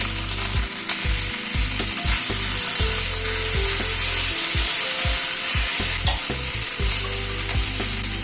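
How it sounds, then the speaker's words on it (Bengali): Ginger paste fries in a hot pan with a steady sizzle while a utensil stirs it, scraping and tapping against the pan in repeated close strokes. "আদা বাটাটা দিয়ে একটু নাড়াচাড়া করে নেব। হালকা করে আদাটাকে একটু ভেজে নেব।"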